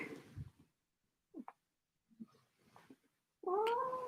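A house cat gives a few quiet, scattered mews before a louder, drawn-out meow near the end, heard close and alone in a quiet room.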